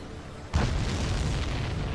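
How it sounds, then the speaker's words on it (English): A supply ship exploding in Ace Combat 7, a sudden loud boom that swells into a sustained rumbling roar and keeps going with no talk. "Did you see that explosion? Looks like that's one of them down."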